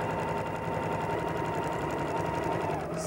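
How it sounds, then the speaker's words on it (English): A sewing machine stitches a quilt seam and sews off onto a starter scrap, running as a steady, close, fairly quiet mechanical whir with rapid rhythmic needle pulses throughout, without any talk. "sew off and again we'll sew onto our starter scrap so we don't have tails of thread."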